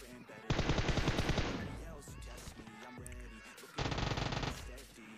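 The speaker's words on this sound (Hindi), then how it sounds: "तो यहाँ पे पीछे से बहुत तगड़ा साउंड आता है कि फायर का" Automatic weapon fire in PUBG Mobile rattles out in two loud, rapid bursts separated by quieter in-game clatter and scattered shots.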